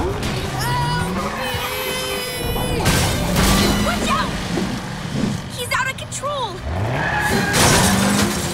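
A cartoon car revs and zooms away as a chase in a superhero cartoon unfolds, with rising engine whines, skids and crashing debris under excited shouting voices.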